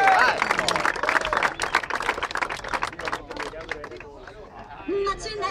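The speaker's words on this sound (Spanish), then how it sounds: "¡Un aplauso!" Crowd applause and cheering at a freestyle rap battle tournament, a dense burst of clapping under shouting voices that thins out toward the end.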